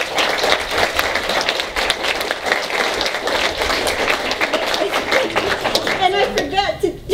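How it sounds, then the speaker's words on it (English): An audience at a panel discussion on climate and racial justice applauds the speakers, with a crackling run of clapping and scattered chuckles and voices rising toward the end. "Let's give them all a round of applause."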